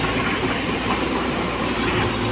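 An automatic vehicle engine braking on a dirt farm road gives a loud, constant low rumble with a rough, grinding texture that holds steady and close throughout.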